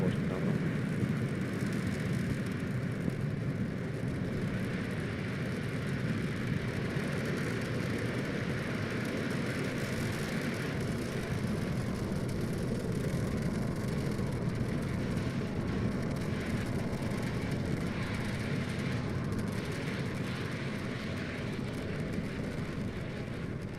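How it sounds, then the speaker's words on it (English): A SpaceX Falcon 9 rocket roars after liftoff on a polar launch from the East Coast, a steady, broad, distant rumble that holds throughout without letup. "Falcon 9 has taken off. It's cleared the tower, and we're currently throttling down to prepare for maximum Q."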